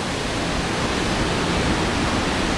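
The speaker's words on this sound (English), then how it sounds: "There's the bucket dumping up ahead." Water park tipping bucket dumping water at an indoor water park, heard as a steady, dense rushing roar of falling water, constant and loud.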